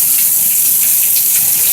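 Heavy rainwater gushes and rushes through a flooded parking lot during a downpour in Amarillo, Texas, a loud, steady, broadband wash of flowing water with splashing texture throughout and no talking.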